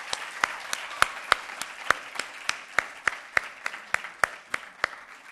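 Applause at the closing ceremony of the fourth TIUF in 2013: sparse, distinct claps from a small group, about three per second, sharp and fairly close, over quiet background.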